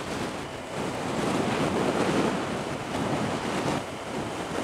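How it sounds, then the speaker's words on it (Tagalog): Strong wind gusting by the Calabasa River in Barangay Calabasa, Gabaldon, Nueva Ecija, a loud continuous rushing roar buffeting the microphone and swelling and easing without pause. "Lakas ang hangin dito."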